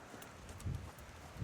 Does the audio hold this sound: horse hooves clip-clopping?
yes